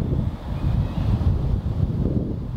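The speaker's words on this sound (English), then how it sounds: "Quite windy now." Strong wind outdoors buffeting the microphone, a steady loud rumbling roar with gusty fluctuations throughout and no talking.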